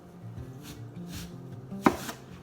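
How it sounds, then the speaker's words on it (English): A knife cuts a slice from an apple while shaping an apple swan, giving quiet close scraping and slicing sounds followed by one sharp tap of the blade meeting the board near the end. "So I'm going to cut one more slice this way"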